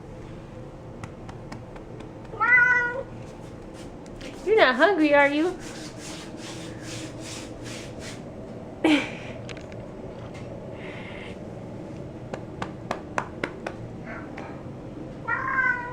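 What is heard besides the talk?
cat meowing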